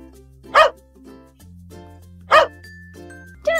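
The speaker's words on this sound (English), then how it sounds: "Dog." A dog barks twice, two sharp single woofs spaced about two seconds apart, loud and close over a soft sustained music backing.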